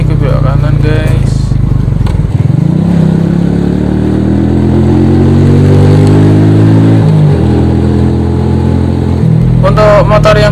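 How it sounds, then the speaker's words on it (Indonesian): A manual motorcycle engine, miked close to the engine, revs and drops repeatedly with loud rising and falling pitch while riding through city streets, and someone speaks briefly at the start and end. "karena mic-nya lebih dekat dengan mesin, jadi suara mesinnya lebih terdengar ya guys"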